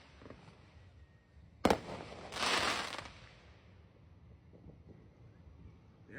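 A firework bursts with a sudden sharp bang, followed by a crackling, hissing spray lasting about a second, at a 4th of July block party show, with faint background noise.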